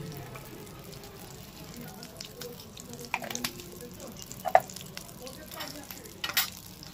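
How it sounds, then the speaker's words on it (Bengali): Black cumin seeds crackle in hot mustard oil, a continuous low sizzle close by with a few sharp pops and faint clicks scattered through it. "এর মধ্যে দিয়ে দিচ্ছি কালো জিরে"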